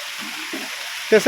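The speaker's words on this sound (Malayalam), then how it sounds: "കുഴപ്പമില്ലാതെ മഴ ഉണ്ടല്ലേ" Rain falls steadily with a soft, even hiss, while a voice briefly talks near the end of the short stretch.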